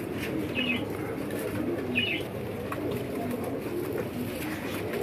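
Pigeons in a loft coo softly under a constant murmur of flock noise, with a couple of brief, faint calls standing out. The sound stays even and fairly distant throughout.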